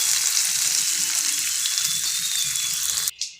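Rasam bubbling hard in a pot on the stove, a dense continuous hiss and fizz close by that cuts off abruptly near the end, with no voices.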